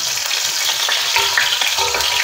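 Bay leaves dropped into hot oil with tomatoes and garlic for a cauliflower-potato curry, giving a loud, continuous close-up sizzle and crackle with no voices.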